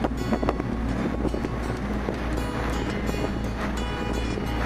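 A steady low engine rumble with rushing water and wind noise buffeting the microphone, like a motorboat moving across open water.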